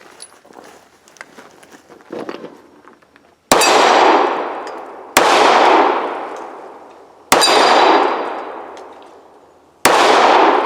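A Kahr Desert Eagle 1911 C .45 pistol with a bull barrel fires four sharp, loud shots at an outdoor range, spaced a couple of seconds apart, each ringing and decaying, after a stretch of faint rustling and handling.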